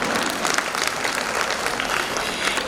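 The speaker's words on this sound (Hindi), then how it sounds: "महिलाओं ने तालियां मारी।" Applause from a largely female audience at a motivational speaking event fills the room, a dense steady clatter of many hands clapping together without pause.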